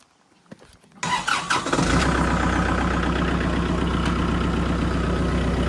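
A diesel tractor engine cranks and catches after a second, then settles into a steady, rumbling idle, loud and close.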